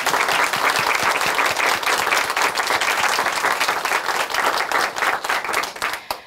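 Audience in a church television program applauding steadily, a dense wash of many hands clapping together for several seconds, loud and close, with no talking over it.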